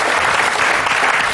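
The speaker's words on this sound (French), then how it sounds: "donc je vais vous demander quelques applaudissements." An audience applauds loudly in a dense, continuous wash of clapping, heard alone and close.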